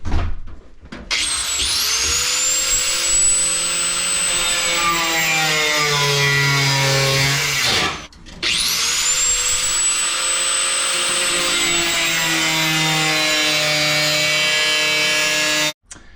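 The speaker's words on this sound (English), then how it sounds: "So let's get the grinder out." An angle grinder with a cutoff wheel cuts metal during overheating repairs on an LS turbo car, giving a steady high whine whose pitch drifts as the load changes, in two long runs split by a brief pause.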